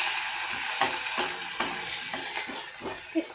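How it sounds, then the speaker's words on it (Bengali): Chopped onions sizzling in a hot pan with oil while being stirred, a steady frying hiss broken by soft scraping and clinks of the spoon, close and alone. "পেঁয়াজ কুচোটা দিয়ে কিছুক্ষণ নেড়ে নেব"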